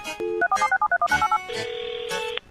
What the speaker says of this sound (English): Philip, tell me if this sounds like a phone hanging up.